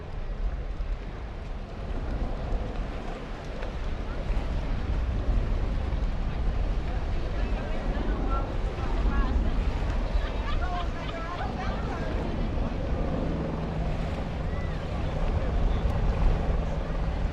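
Racing boats roar across a lake during a race on Lake Tholocco, a dense, continuous engine drone with wind and water wash, steady and loud throughout.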